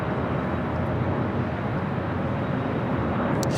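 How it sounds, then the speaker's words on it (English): An American Airlines Airbus A321 arriving at LAX in Los Angeles, heard as a steady, loud broadband jet roar that holds evenly throughout with no pauses. "Next arrival is American Airlines flight 2947 coming up from Charlotte, an A321"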